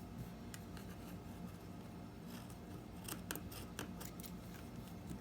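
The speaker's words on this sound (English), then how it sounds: "Now I am going to clip the corners just to eliminate the bulk." Scissors snipping the corners of a sewn fabric face mask, a few quiet, quick cuts and rustles clustered toward the end over faint background hiss.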